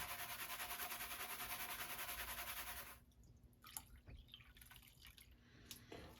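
Gold panning with paydirt containing magnetic material: water sloshes and drips in a pan, a steady rhythmic swish for the first half, then softer scattered trickles and drips close by.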